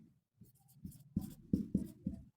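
A pen writes on paper during a Hindi-language English grammar lesson, a run of short scratchy strokes that swell into several firmer, louder marks, close and alone with no talk.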